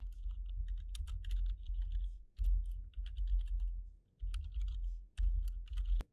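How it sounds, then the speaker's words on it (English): Bursts of rapid keystrokes on a computer keyboard while task names are typed into an Excel work schedule, close and clear, with short pauses between runs of typing and no talking. "In the Source field, I'll type the name of the task."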